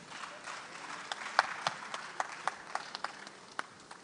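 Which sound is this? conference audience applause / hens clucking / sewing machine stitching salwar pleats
conference audience applause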